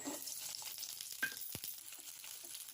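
Garlic cloves and green chillies frying in a few spoons of oil in a pan, giving a soft, steady sizzle with a couple of brief clinks or stirs, close but fairly quiet, with no talking.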